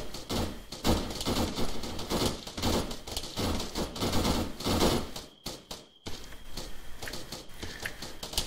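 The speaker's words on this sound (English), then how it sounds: "I'm hearing gunfire over in your direction." Dense, rapid gunfire in a military video game, a sustained fusillade of overlapping shots and bursts with a brief lull near the end before firing resumes, loud and close throughout.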